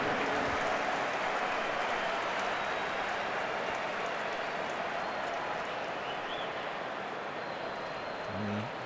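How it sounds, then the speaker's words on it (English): A large contingent of Arsenal supporters applauds the team captain in a stadium, a distant, sustained wash of clapping from the crowd that holds at a steady, fairly soft level. "warm applause from a large contingent of Arsenal supporters for the skipper"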